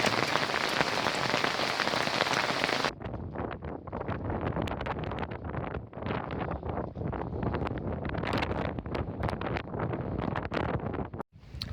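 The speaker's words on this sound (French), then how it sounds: "il grêle encore" A steady hiss of rain and pattering hail strikes a surface nearby at a campsite in Normandy, with wind buffeting the microphone; the sound drops after a few seconds.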